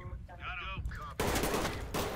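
Gunfire in the tactical shooter Ready or Not during a nightclub raid, with a burst of loud, dense shots filling the second half after quieter game sounds, and faint speech beneath.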